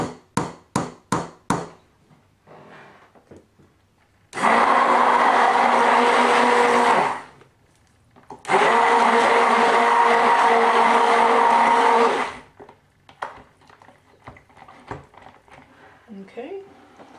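A stick blender mixing soap batter and colors for a Midnight Tropic soap, two long steady motor runs of several seconds each, loud and whirring, with tapping before and quieter clatter and a voice after.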